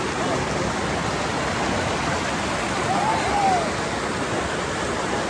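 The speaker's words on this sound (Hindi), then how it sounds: "तो कुछ इस तरह से पानी यहाँ पर बह जाता है" Steady rushing roar of river water flowing and spilling over rocks at the Amlong River in Karbi Anglong, loud and continuous throughout, with a faint voice briefly audible beneath the torrent.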